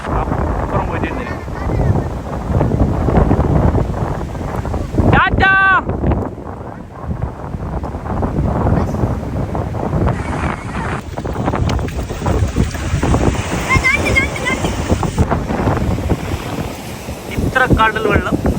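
Sea waves wash onto a salt-making shore in a steady, loud roar buffeted by wind noise, with people talking over it and a brief high tone partway through.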